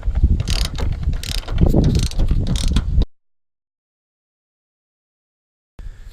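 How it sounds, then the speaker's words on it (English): A T45 Torx driver ratchets a bolt loose on a pickup truck, a close run of quick metallic clicks for about three seconds, then a long silence and a brief burst at the end. "Then we have to remove this where our cable goes on to with a T45 Torx."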